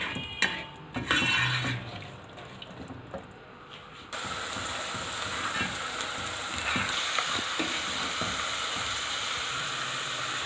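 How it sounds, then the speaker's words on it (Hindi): Onions fry in a pan for kachnar chicken, a steady loud sizzle and hiss with scattered clinks and scrapes from stirring, the frying growing denser and more even after a short pause. "अब इस प्याज को हम करेंगे ब्राउन,"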